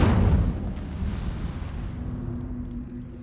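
A fire spell from the game Hogwarts Legacy bursts out with a loud whooshing blast at the start, then fades into a sustained low rumbling roar with a faint steady hum beneath.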